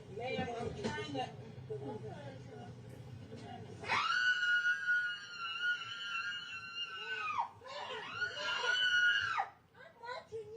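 A person screams aboard an aircraft after a stretch of agitated talk, the long piercing shrieks coming close and loud in two sustained bursts with a brief break between them.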